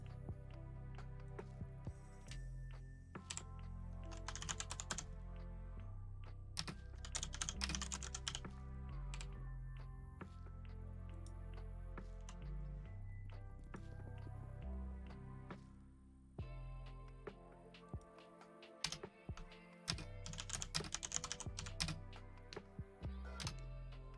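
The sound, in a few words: typing on a computer keyboard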